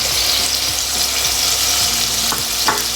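Ginger garlic paste and masala sizzle loudly in a hot pan for a potato and pea dish, a steady close frying hiss with a few scraping stirs and no talking.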